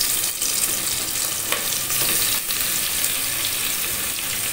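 Two large sliced onions sizzle steadily in hot oil with spices in a pan for corn pulao, a dense continuous frying hiss heard close up with occasional stirring scrapes.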